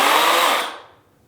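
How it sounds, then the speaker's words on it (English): A Craftsman 16-inch electric chainsaw, an oiled chain saw with no gasoline engine, whines loudly at full speed for about half a second, then winds down and fades to quiet. "This is an electric chainsaw."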